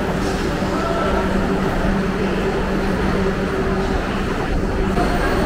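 Vande Bharat express train standing at Chennai Central station, a steady low rumble of idling equipment and station hum filling the whole stretch at even loudness, with no talk.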